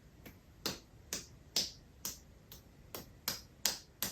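Soft, evenly spaced claps, roughly two per second, sound close and crisp as an audience claps quietly to imitate pouring rain during a children's Bible story of Jesus calming the storm.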